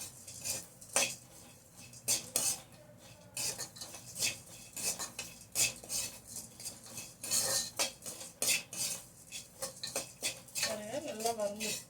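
Bisibela bath spice powder dry-roasts in a pan, with a metal spoon scraping and clinking in rapid, irregular strokes, close and fairly quiet, with no talk.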